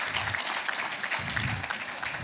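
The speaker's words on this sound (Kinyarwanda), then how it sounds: "Mwamuhaye amashyi." Audience applause during a Kinyarwanda interview show with a singer: steady dense clapping from a crowd, moderately loud and continuous throughout, with no clear speech over it.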